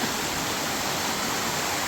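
Water pours steadily over a small waterfall in Malappuram, a constant close broadband rush with no breaks and no voices.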